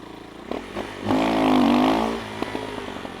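Motorcycle engine revving during a beginner wheelie, one loud rising-and-falling throttle blip lasting about a second, set between quieter idling and clattering.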